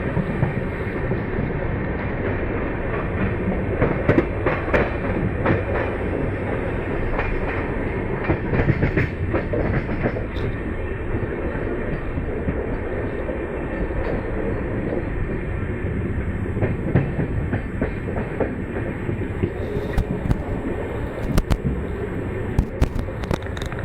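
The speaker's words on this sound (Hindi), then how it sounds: "भरूच जंक्शन रेलवे स्टेशन पे प्लेटफॉर्म 2 पर हमारी ट्रेन आई है।" Jodhpur–Dadar Express pulling into platform 2 at Bharuch Junction, a loud, continuous rumble of railcars with rhythmic clickety-clack from the wheels and occasional sharp metallic clanks, no talk.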